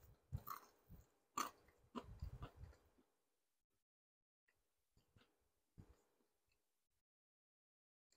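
Bites of Jollibee fried chicken with a hard, crunchy crust are chewed close up in a quiet room at Jollibee in Kalihi, Honolulu, with a few soft crunches early and then sparse faint chewing sounds.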